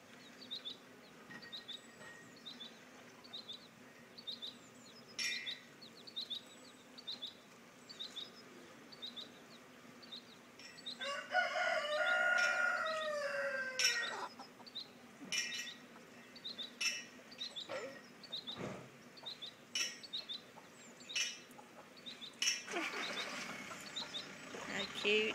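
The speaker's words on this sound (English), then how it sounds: "little baby chicks in there." Baby chicks peep steadily in short, high, regularly repeated chirps that stay faint throughout. A louder, fuller burst of sound comes midway.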